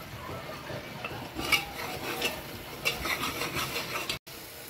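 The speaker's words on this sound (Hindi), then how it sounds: "इधर मसाला भी हमारा भुन रहा है, देखिए मसाले ने तेल छोड़ दिया है।" Spice masala roasting in oil in a pan, a soft low sizzle with a spoon stirring and scraping against the metal in occasional clinks, steady and close with no voices.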